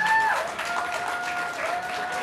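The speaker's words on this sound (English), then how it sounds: "Can we give them another round of applause and love?" A crowd at an Indigenous Peoples Day celebration applauds young performers, a steady mass of clapping heard at moderate distance, with a few high whistles or cheers rising above it.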